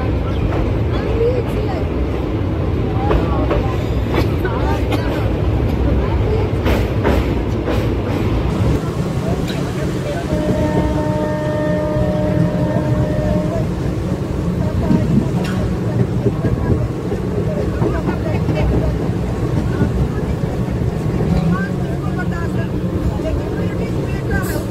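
Train rolling across the railway bridge over the Gandak river between Khagaria and Umesh Nagar, a continuous heavy rumble with rhythmic clattering of wheels on the bridge spans and wind noise, with people talking over it.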